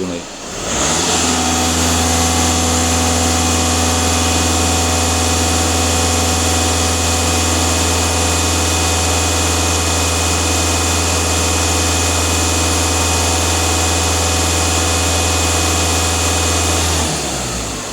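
A VW Passat B7 2.0 TDI diesel engine roars close by at steady high revs, a loud unbroken drone that starts abruptly and cuts off near the end.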